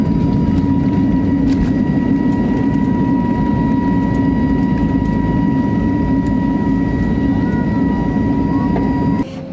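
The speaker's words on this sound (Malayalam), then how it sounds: "ഫ്ലൈറ്റ് വീണ്ടും ടേക്ക് ഓഫ് ചെയ്തു" An IndiGo airliner taking off after refuelling, its engines a loud, steady roar with a faint whine, heard from inside the cabin without a break.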